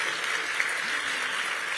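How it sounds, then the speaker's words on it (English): Steady crowd applause at a county oath of office ceremony, a continuous dense clapping throughout, even in loudness with no voices. "let's give a round of applause to Boone High School's vocality"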